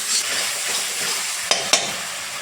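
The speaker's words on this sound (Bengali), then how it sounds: "এখন মশলাটাকে একটু ফ্রাই করে দিই।" A spice paste of poppy seed, a little mustard, cashew and tomato fries in a pan with a steady close hiss and sizzle, then two sharp stirring scrapes near the end.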